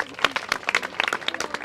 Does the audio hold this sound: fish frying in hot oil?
no